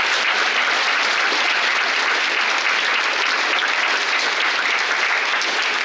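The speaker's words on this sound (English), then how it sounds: "Give them a round of applause." Steady, loud applause from a school assembly audience, sustained clapping filling the whole stretch without pause.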